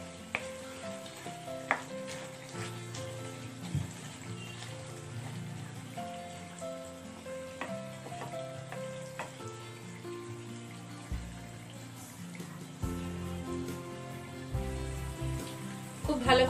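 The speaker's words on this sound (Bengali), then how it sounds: "চিকেনে অলরেডি তেল ছাড়তে শুরু করে দিয়েছে।" Chicken frying in oil in a pan, a steady soft sizzle running throughout with occasional small pops and stirring clatter, close by.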